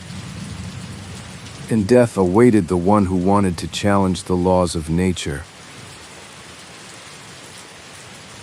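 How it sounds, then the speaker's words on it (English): Steady rain falling with possible thunder in a stormy scene, a constant soft hiss behind someone narrating in the middle, then continuing alone and faint. "But rain, this is rain. It's raining."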